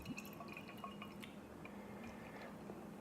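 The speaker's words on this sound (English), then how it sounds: "Let's get a pour." Brick&Mortar Liquid Truffle Milk Stout pours into a clean glass, giving faint close trickling and dripping with small fizzy pops, quiet and steady throughout.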